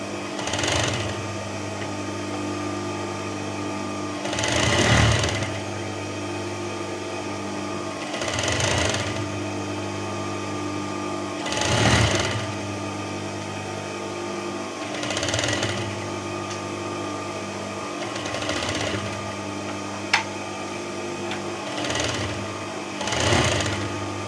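A sewing machine stitches a shirt collar in a school sewing lesson, its steady mechanical whir running continuously with regular louder surges every few seconds as the stitching speeds up, close and alone without talk.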